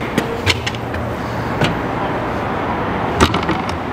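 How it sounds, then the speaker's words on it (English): The hands-free trunk of a BMW M4 unlatches after a foot is waved under the rear bumper, giving several sharp clicks and mechanical clunks over a steady low background hum. "We can lift up the trunk."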